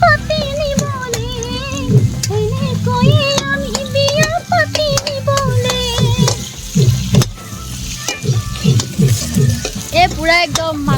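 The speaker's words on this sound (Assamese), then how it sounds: "আলু ভাজি আছোঁ বৰ্তমান" Potatoes frying in a pan for a Bhogali Bihu Uruka feast, a continuous sizzle with repeated stirring scrapes, heard under a voice and someone talking nearby.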